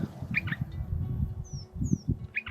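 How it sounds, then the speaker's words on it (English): Birds chirp and call in the Australian outback around a freshly built nest, with short bright tweets and a couple of thin whistled notes over a low rumbling background. "These birds are already in protection mode, as with the nest already built, the eggs will soon be laid."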